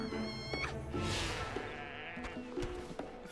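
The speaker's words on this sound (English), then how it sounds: "goat dying sounds so hilarious" Goats bleat as they die in World of Warcraft, a few nasal bleating cries over steady game music and ambient effects, fairly close and moderately loud.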